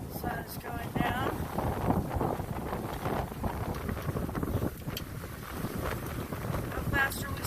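A sailboat under sail at sunset, with rushing wind buffeting the microphone and water splashing along the hull, continuous and close, while people talk over it.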